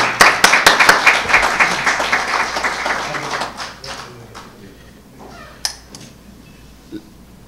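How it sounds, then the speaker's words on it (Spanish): A crowd applauds, dense clapping that gradually fades out over a few seconds, leaving near quiet with a couple of stray claps. "Le brindamos un fuerte aplauso por venir."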